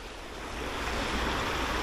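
Steady, close rushing of creek water fed by melting snow, a continuous broadband wash that swells slightly louder midway with no voices over it.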